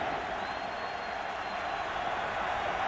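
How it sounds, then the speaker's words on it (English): Steady roar of a large football stadium crowd at a Philadelphia Eagles at New Orleans Saints game, a broad continuous wash of cheering and applause holding at a constant loud level throughout. "Crowd gets loud again."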